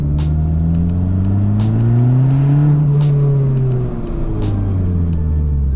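A turbocharged Mazda ND Miata running about 5 PSI of boost accelerates hard from inside the car, its engine note climbing through the gears with a loud, steady drone.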